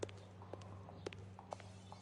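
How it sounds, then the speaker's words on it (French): Footsteps in the L.A. Noire video game, a few evenly spaced soft steps at moderate level over a steady low game ambience hum. "C'est toi qui fais des bruits de pas comme ça?"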